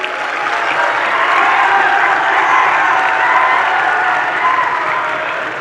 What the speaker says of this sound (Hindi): एक बार जोरदार तालियां आयोजक मंडल के लिए।